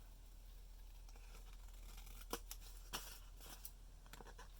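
Scissors snip the corner off a fabric pocket in a quiet embroidery setting: a few faint, crisp cuts, some close together, over a low hum.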